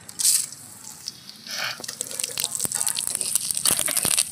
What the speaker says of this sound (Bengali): আমি এবার ফোড়ন দিয়ে দেবো শুকনো লঙ্কা, তেজপাতা, জিরে, গরম মশলা আর কারি পাতা।